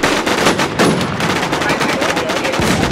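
Rapid automatic gunfire from the video game Infestation rattles nonstop at close range and high volume, the dense bursts running together with only brief breaks.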